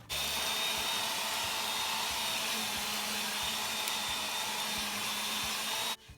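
Earthwise electric rototiller making a second pass through garden soil, giving a steady, loud motor whine and churning rumble that runs unbroken for about six seconds before cutting off.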